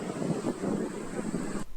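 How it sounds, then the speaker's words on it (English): Steady wind gusts by the sea at the port of Brisbane, where the water is choppy, roaring against the microphone in a continuous rough rush before cutting off abruptly. "The wind's blowing, it's chopped up"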